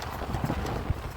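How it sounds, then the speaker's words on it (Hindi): Hooves clop steadily on a hard surface as a horse walks, heard under a noisy, rumbling background. "देखिए घोड़े की चाल"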